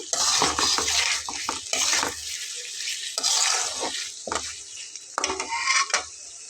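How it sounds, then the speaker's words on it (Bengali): Chicken curry in progress: fried chicken pieces stirred into a spiced masala in a pan give a close, steady sizzle broken by repeated scraping and stirring strokes, with no talking. "এটাকে পাঁচ মিনিটের মতো একটু নেড়ে ছেড়ে আমি এর ভেতরে ভেজে রাখা মাংসগুলো একে একে দিয়ে কষিয়ে নেব"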